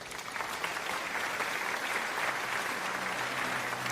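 Steady applause from a studio audience on a game show, sustained and even throughout with no talk over it.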